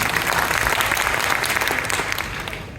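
Loud, sustained audience applause fills an entrepreneurs' gathering with dense, steady clapping from start to finish, easing only slightly toward the end.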